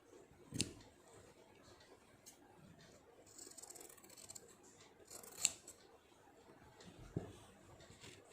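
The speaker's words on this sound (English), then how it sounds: "Once these are done, you cut the patterns." Scissors cutting fabric pattern pieces, a few crisp metallic snips spaced several seconds apart, close and fairly quiet against a hushed room background with faint rustling between cuts.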